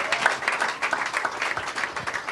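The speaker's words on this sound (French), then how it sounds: "Let us clap unto the Lord." A church congregation at a conference in Toronto claps together for the Lord, producing a steady, rhythmic burst of many hands clapping in unison at a brisk beat, moderately loud and slightly distant in a large room.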